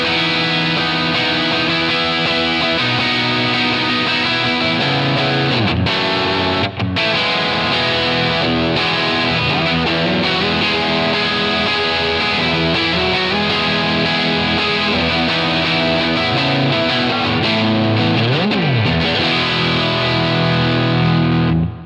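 Electric guitar played through a Line 6 Helix huge drive patch chaining an EP booster, a Timmy and a Euphoria-style overdrive, thick saturated chords and sustained notes ringing continuously, loud and dense throughout.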